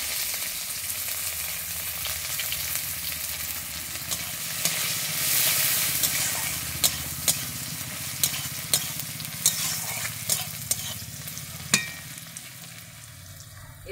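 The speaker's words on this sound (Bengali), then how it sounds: "এরপরে আমি দিয়ে দিচ্ছি পেঁয়াজ।" Chopped onion is fried and stirred in a pan with cumin and carom seeds, giving a steady close sizzle. From midway on, a utensil scrapes and taps the pan in a regular series of short knocks.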